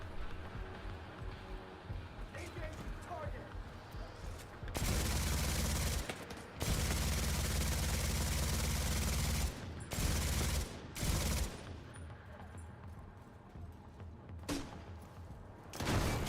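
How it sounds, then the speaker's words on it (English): Heavy sustained bursts of gunfire from The Division 2 shooter game roar in long blocks, then break into shorter bursts, with running and movement noise between volleys and quieter ambience at the end. "Who the hell was shooting at me there?"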